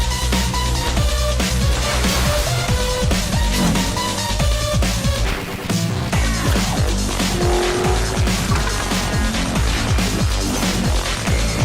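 Racing cars in the off-road arcade game Motorstorm: loud, continuous engine roar with squealing, skidding tires and busy crashing impacts, dense and unbroken throughout, with a brief dip midway.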